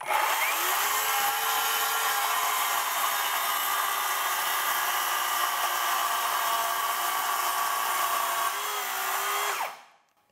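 A handheld circular saw rips through wood along a guide rail, a loud, steady high-pitched whine held for nearly ten seconds before winding down at the end.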